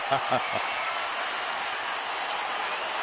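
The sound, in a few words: baseball crowd applauding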